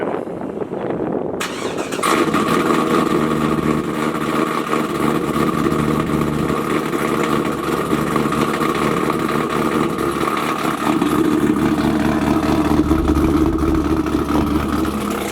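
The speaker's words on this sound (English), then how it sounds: "get a little heat in the engine" A 1969 Camaro Z28's DZ 302 V8 engine turns over and settles into a loud, steady idle with a deep rumbling lope that holds throughout.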